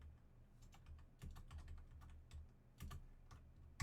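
Quiet, close keystrokes on a computer keyboard while entering text in Sibelius notation software, coming in irregular bursts of light taps with brief pauses and no voice.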